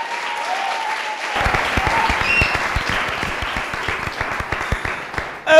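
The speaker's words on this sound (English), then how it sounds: "Biko, give me my own round of applause." Audience applause on a Christmas special show, crisp clapping from a crowd that builds after a quiet start and continues steadily, with faint voices underneath.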